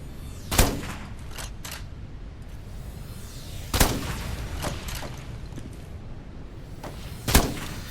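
Gunshots in the Metal Garden video game, fired inside an overgrown megastructure: three loud, widely spaced single shots with fainter impacts in between, close and sharp.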